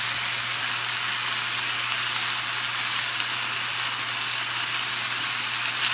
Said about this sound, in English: So you see how we've got a really nice sear going on over here?